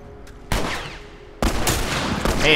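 Video game gunfire from The Last of Us Remastered, with sharp loud shots bursting in and each trailing off into a decaying echo, the last ones coming in quick succession.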